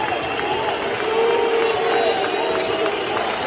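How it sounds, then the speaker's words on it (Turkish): Football crowd at a Fenerbahçe vs Olympiakos UEFA Conference League quarter-final, applause mixed with booing, a dense, steady stadium roar with no single voice standing out. "Birileri alkışlıyor, birileri yuhluyor."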